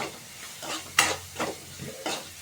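Rasam ingredients fry in a hot pan with a steady sizzle, broken by several scraping stirs of a utensil at irregular intervals, close up and with no voices.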